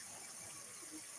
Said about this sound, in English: I try to at least rinse my hands with hot water